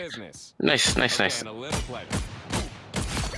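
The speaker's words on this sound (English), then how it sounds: "Then obviously you got his dualies" Deadpool's dual pistols fire in a video game as a series of sharp gunshot cracks, several quick reports in rhythm, partly under someone talking over them.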